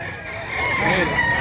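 A rooster crows among other fowl at a busy chicken market, rising in the second half over a steady bed of crowd noise and chatter.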